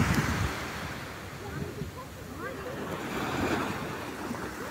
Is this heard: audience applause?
no